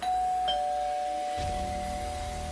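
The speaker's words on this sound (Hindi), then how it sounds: "तभी हमें घर की घंटी बजने की आवाज आई।" A doorbell chimes with a bright sustained ding that rings out, followed by a lower electronic tone, with no voices.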